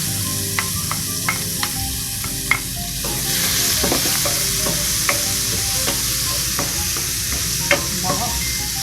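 Garlic sizzles steadily in hot olive oil in a pan, with a bright hiss throughout and small ticks and scrapes of stirring over it.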